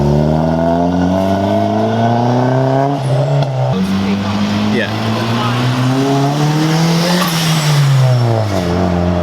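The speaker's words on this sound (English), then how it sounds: "You could hear it blow off." A turbocharged Honda Civic EG hatchback on a stock-block engine, set up with launch control, revs hard in rising and falling sweeps, with a short airy hiss of the blow-off valve venting between pulls. The engine is loud and close.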